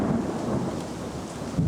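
Evening thunderstorm with rain during the approach to the rainy season, a steady low rumble of thunder over continuous rain, swelling slightly near the end, no voices.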